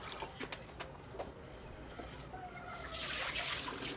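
Water poured from a bottle into a cooking pot for boiling, ahead of making rasgulla; a faint, steady rushing pour that grows fuller and louder toward the end, with light clinks, and no voices.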